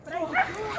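A dog lets out a short, close, high-pitched yelp and whimper during a dog attack, with distressed voices overlapping.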